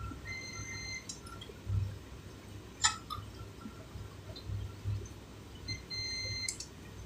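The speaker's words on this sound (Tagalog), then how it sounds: "Hanggang mawala yung kanyang buzzer." A rice cooker's electronic buzzer beeps in short bursts at the start, middle and end, fairly faint over a low steady hum, with no talking. The cooker is faulty, staying on cook and not switching to warm.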